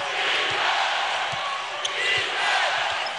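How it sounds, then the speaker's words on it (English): A dense, steady roar from a large basketball arena crowd fills the air throughout a Wizards vs. Warriors game, with a few faint thumps of a ball bouncing beneath the noise. "Crowd thundering in the third, aching to stay involved in the fourth"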